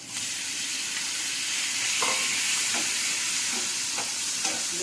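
Tomatoes, curry leaves and chopped chilli fry in a pan for sev tamatar, giving a steady, fairly loud sizzle with a few short stirring scrapes, no voices.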